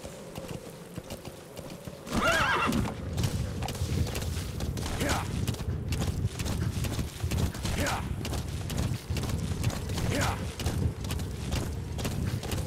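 Horse in the Metal Gear Solid V video game, with clip-clop hoofbeats running steadily under game music and noise, and a few whinnying calls recurring at intervals; a voice also talks over it.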